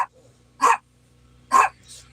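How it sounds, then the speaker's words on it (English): A hound dog gives two short, loud barks about a second apart, with a quieter huff just after, close by in an otherwise quiet room. "Hey, you're a hound dog."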